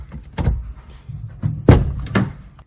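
The door of an old car is pushed shut several times, giving a series of close, heavy thuds and clunks with rattling latch noise and short pauses between.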